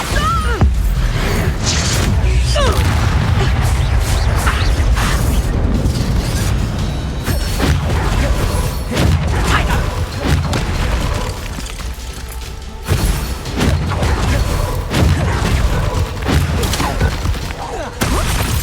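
Bombarda and other spell explosions in the Hogwarts Legacy video game, with loud repeated booms, crashes and bursts of magical combat in dense, continuous succession throughout.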